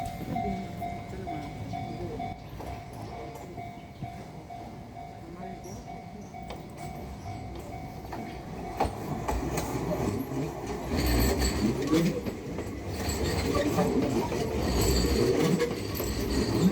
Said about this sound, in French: Donc il y a des trains qui passent vraiment